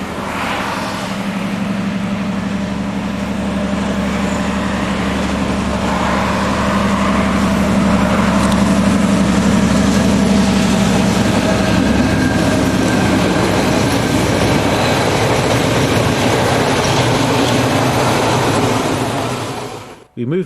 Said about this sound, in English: Superb view of M62-145 as it rounds the bend at Sapojtverdo.